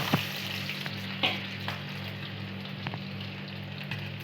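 Garlic and ginger frying in a tadka for a gravy produce a steady hissing sizzle, close and moderate in volume, with occasional sharp clicks of stirring.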